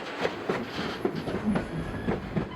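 White Pass Scenic Railway train rolling along its rails near cliffs, a steady rumble of wheels broken by repeated rhythmic clicks and knocks at the rail joints, heard close from outside.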